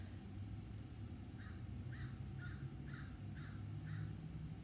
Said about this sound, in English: I think that's crows.